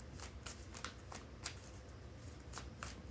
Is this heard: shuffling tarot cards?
yes